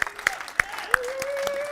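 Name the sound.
audience applause at conference talk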